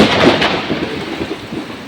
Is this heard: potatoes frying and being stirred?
no